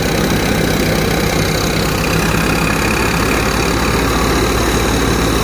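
Tractor engine idling steadily while powering a thresher machine on a farm, a loud, continuous low chugging drone close by with no talk.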